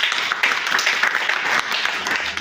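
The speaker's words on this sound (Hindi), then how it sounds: "जरा अंकित के लिए जोरदार ताली बनती है" A crowd gives a round of loud clapping for Ankit at a talk, dense steady applause close by with no one speaking.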